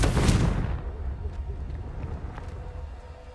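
Confringo blasting curse cast in the Hogwarts Legacy video game: a loud, deep booming blast at the start that rumbles and fades over a few seconds, with low game ambience continuing after.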